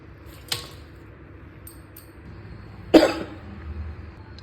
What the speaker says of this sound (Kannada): ಸಾರಿ ಲೈಟಾಗಿ ಕೆಮ್ಮು ಬಂತು